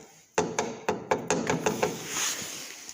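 Loose front-end bushings on a John Deere 4520 tractor knock as the axle is wiggled, giving about seven sharp, close thuds in an uneven rhythm, then fading into a low rumble.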